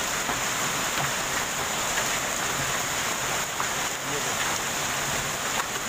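Heavy rain mixed with hail pours down in Delhi, a dense, even roar of hiss with faint scattered impacts, steady and close throughout.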